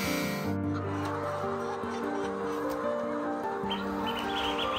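A crowd of newly caged seven-month-old layer chickens clucks and squawks continuously at close range, calls overlapping in a busy din.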